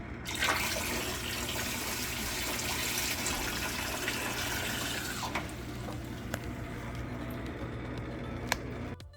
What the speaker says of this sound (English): Here I am filling the sump with the salt water